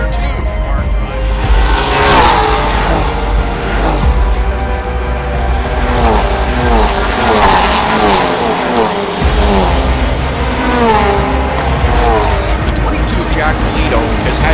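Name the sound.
race cars on track, Ford Mustang in sports car championship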